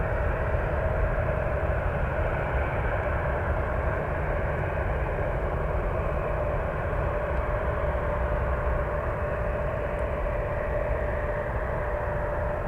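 A jet airliner on the Frankfurt flight at San Francisco airport, heard as a steady, loud roar with a sustained engine whine holding level throughout, with no voices over it.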